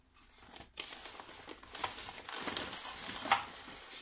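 Sheet of paper handled and crumpled while preparing a despacho offering to Pachamama for the winter solstice, with steady crinkling and rustling that runs close and continuous for several seconds.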